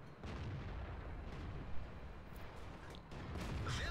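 Tank cannon fire in the World of Tanks video game, with shots landing on a Type tank: deep booming blasts and low rumbling impacts, one sharper bang near the middle, over a continuous muffled battle drone.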